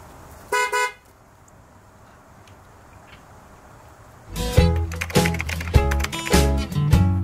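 A car horn gives two quick honks near the start, then a stretch of quiet, and music comes in and plays to the end.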